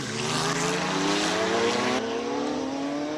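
A Ferrari 488 GT3 race car at a Cape Town hill climb, its engine roaring loud and close with a steady rising pitch as it accelerates past under full throttle, with no talk over it.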